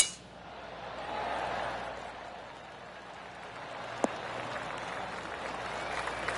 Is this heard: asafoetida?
no